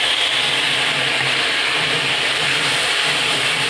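A paste of onion, garlic, ginger, cumin, chili and coriander sizzles as it fries in a pan, with a loud, continuous hiss that stays unbroken throughout.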